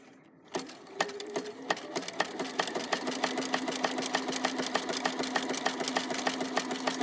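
A sewing machine back stitches at the edge of a coiled rope basket, running steadily from just after the start with a regular rapid needle clatter, close and fairly loud, with no talking.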